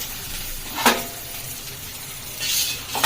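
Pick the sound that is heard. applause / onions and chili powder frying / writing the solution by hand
onions and chili powder frying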